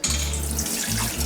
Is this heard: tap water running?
yes